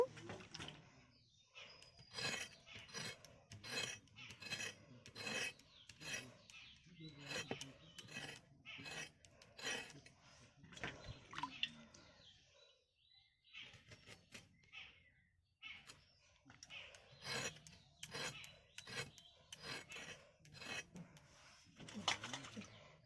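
Carrots being scraped by hand with a blade, repeated short rasping strokes in steady bursts, close and fairly quiet, with a pause partway through.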